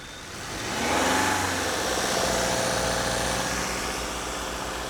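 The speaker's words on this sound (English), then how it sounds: "All right, go ahead and rev it." A Subaru Crosstrek engine is revved to about 2,000 RPM, rising smoothly in the first second and then holding a steady, droning hum with a broad hiss, close and constant.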